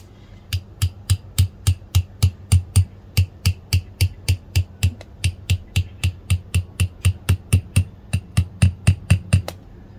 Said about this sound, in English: I'm gonna take the metal bracket and just